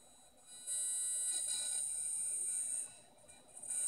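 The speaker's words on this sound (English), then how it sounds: "can hear the PWM going in the background" A brushless DC motor driven by PWM from an Arduino-based open-loop commutator gives a steady high-pitched electronic whine with a faint tonal background, holding level for a few seconds before dipping and returning.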